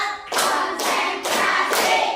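Group hand clapping from a class of students in a classroom ice-breaking clap game, four loud, evenly spaced bursts of many hands clapping together, close by with no talking.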